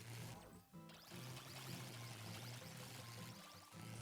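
Water poured over big green plants in the game No Place Like Home, a steady splashing pour that runs almost without a break, with a short gap near the start and a soft low hum beneath.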